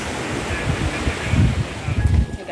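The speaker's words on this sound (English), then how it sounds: "We are now at Long Bay Beach." Surf at Long Bay Beach rolls in as a steady low rush of breaking waves, swelling and easing over a few seconds, with wind buffeting the microphone.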